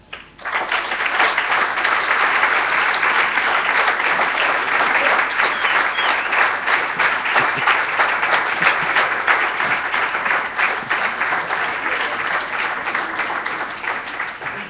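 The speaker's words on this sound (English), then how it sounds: "They don't really need that much applause." Sustained audience applause at a European Scout symposium, steady and dense clapping from a large hall crowd that rises quickly and holds at full strength for nearly fifteen seconds without any talk.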